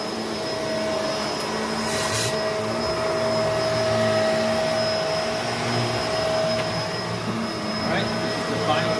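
A Bissell MultiClean Allergen Lift Off Pet carpet cleaner drones loudly and steadily on carpet with a constant motor whine, close up, and a voice speaks over it at times.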